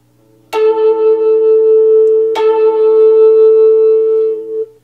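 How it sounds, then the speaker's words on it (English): Two ringing plucks on the strings behind the bridge of a Fender Jaguar electric guitar, each a sharp bright attack that sustains in a steady shimmering chime, heard up close and alone. "You can hear that the guitar just kind of comes alive simply by plucking behind the bridge."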